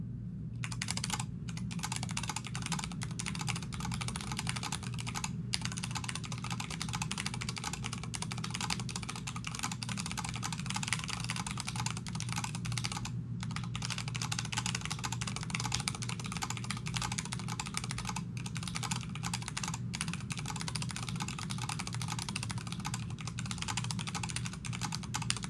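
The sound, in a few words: typing on RACE3 vtk-8300 keyboard with Cherry red switches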